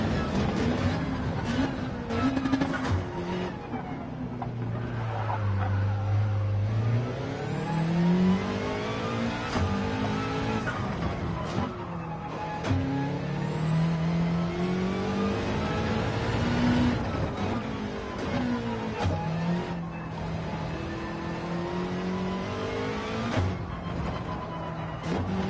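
Race car engines scream and rev up and down through gear changes during a race in Gran Turismo, a continuous loud engine note with rising and falling pitch sweeps and other cars whirring nearby.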